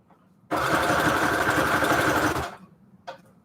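Sewing machine stitching paper strip collages onto tags runs in one steady burst of about two seconds, a loud, even mechanical whir with dense rapid needle strokes, then stops, followed by a brief faint knock.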